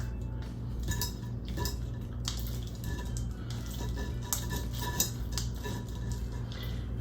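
Steady scraping and clinking of a utensil stirring a pasta and chicken casserole mixture in a baking dish, continuous close-up stirring over a low background hum, with no talking.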